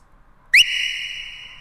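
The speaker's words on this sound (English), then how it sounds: "little whistle." A short upward-sliding whistle snaps in and then holds a steady, bright tone. It is added for a party feel to a music track written for a comedy tour and stands alone without other instruments.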